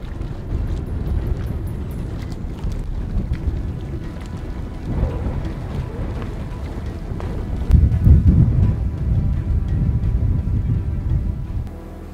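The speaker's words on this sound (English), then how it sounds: "it was so loud outside because of the wind" Steady low rumble of strong wind buffeting in Sardinia, Italy, swelling into a louder gust near the end, with no voices.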